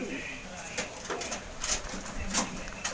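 A pet pigeon coos softly at close range, giving a few low, soft calls amid some handling clatter and background noise.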